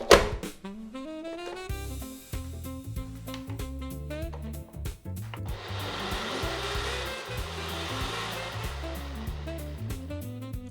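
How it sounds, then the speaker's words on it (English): A high-speed blender on its smoothie setting whirs through strawberry vinaigrette dressing, a loud, steady motor roar that shifts pitch early on, then holds as a dense, continuous whine for about eleven seconds. "And you're gonna blend it for about 90 seconds."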